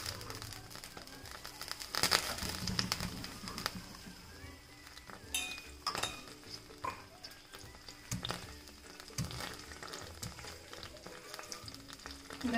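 Dry red and green chillies sizzle in hot coconut oil, a moderate crackling fry with bursts of sputtering and some clinks of a utensil against the pan.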